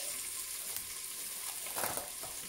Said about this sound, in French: afin de les faire revenir. Avec les oignons.